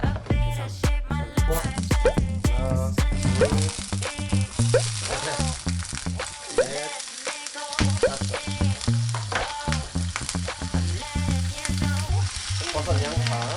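Sea cucumber stir-frying in a pan with bok choy, onion, mushrooms and cucumber, a loud steady sizzle under a continuous bright music bed, with a brief dip midway and no speech.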